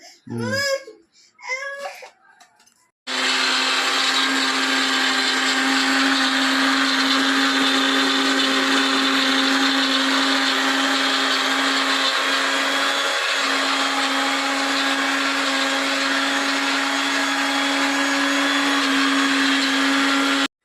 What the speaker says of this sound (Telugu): ఇది మిక్సీ పట్టేస్తాను.